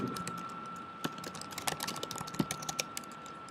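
Rapid typing on a computer keyboard, a run of light, uneven clicks at close range, with a steady electrical hum in the background and no voices.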